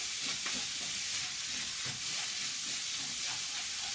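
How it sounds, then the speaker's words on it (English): Beef strips frying in a stir fry, a steady close sizzle and hiss running throughout with a few soft stirring scrapes and clicks. "Add your beef there onto your stir fry."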